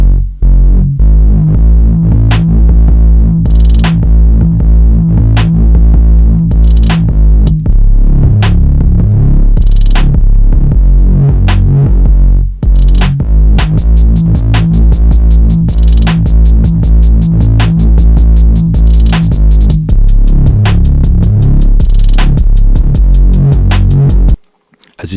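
An electronic kick drum and bass mix in FL Studio before processing, loud and bass-heavy with a steady pulsing kick over a continuous deep bassline, cutting off at the end.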